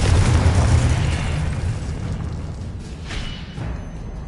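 Confringo spell explosion in a Hogwarts video game: a heavy booming blast with a rumbling low-end tail that decays over a few seconds, loud and with no voices.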